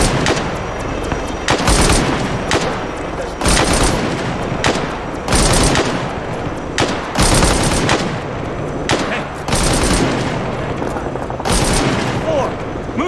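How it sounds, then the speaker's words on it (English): Dense suppressive gunfire in a Rhodesian Bush War era combat video game, loud repeated bursts of automatic fire and booming shots in close clusters, continuing throughout with no pauses. "Suppressive fire!"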